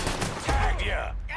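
Gunfire in the Mafia 3 video game, a loud burst of shots over dense low rumble and game noise, with a voice speaking briefly over it.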